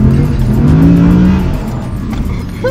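Audi R8 GT V10 engine revving hard at full throttle while driven, a loud close rising then falling engine howl filling the short stretch with no talking.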